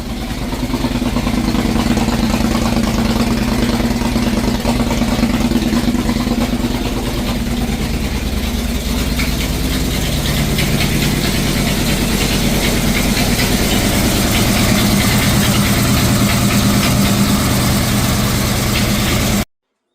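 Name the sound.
Ford Falcon XB GS engine idling with exhaust leaks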